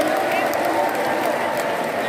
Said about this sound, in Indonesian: Kasih tepuk tangan yang Jepun